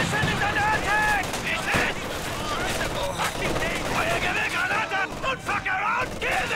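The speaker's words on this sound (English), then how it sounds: "Our machine gun turret has been installed. Our position is under attack." Machine gun turret fire in the Company of Heroes 2 video game, set in a winter battle at Rzhev: dense, rapid bursts of gunfire mixed with other battle noise while voiced soldiers shout over it.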